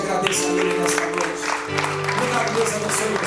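Congregation applauding during a church service, broad sustained clapping from many hands with a dense crowd texture, continuing steadily throughout with a low hum underneath.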